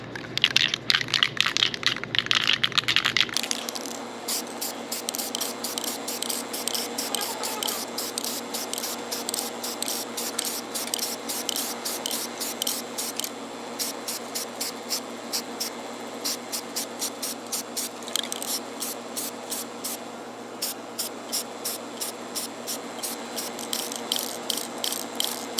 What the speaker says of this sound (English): right now I'm gonna paint it with this Rust-Oleum and see how close the paint comes.